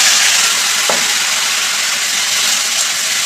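Chopped pineapple drops into a pan of sizzling five-spice tempering, with a loud, steady frying hiss throughout and a brief splash-like burst near the start as the fruit hits the hot oil.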